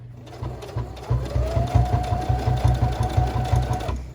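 A sewing machine stitches a quilt-as-you-go hexagon quilt block in a steady, close, rapid needle rhythm, with a few brief pauses and restarts and a faint whine running underneath.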